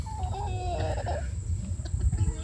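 Chickens clucking and murmuring nearby, with a rooster's higher call rising briefly over the low, busy flock chatter.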